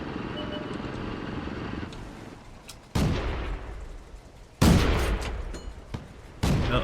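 World of Tanks tank guns firing, three heavy sharp blasts spaced a couple of seconds apart, each with a rumbling decay, over a steady engine hum.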